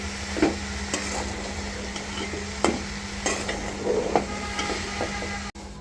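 Curry with spices stirred and fried in a pan, a steady sizzle with spatula scrapes and knocks against the pan at irregular intervals, close and clear with no talk.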